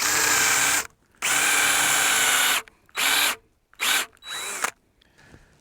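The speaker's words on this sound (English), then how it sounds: "when I drill a hole in the brace, I normally just come up about 1 inch above the center and drill a" Power drill boring a hole a couple of inches deep into a wooden fence brace for a double H pasture fence, loud whining bursts starting and stopping several times, close by with short silences between.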